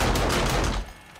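An automated gun turret in 7 Days to Die fires a rapid, continuous stream of shots, loud and close, then cuts off abruptly near the end.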